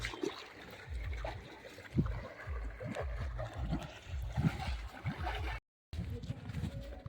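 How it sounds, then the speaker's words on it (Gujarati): Irrigation water running into a castor field outdoors, a continuous gurgling and trickling flow with low, uneven splashing surges, fairly close and steady, briefly cutting out near the end. "એરંડામાં પાણી ચાલુ છે."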